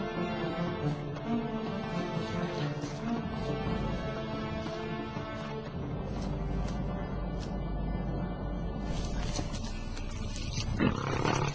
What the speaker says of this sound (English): Hearing the lion's ominous warning and realizing that a charge is imminent, the hunters spread out.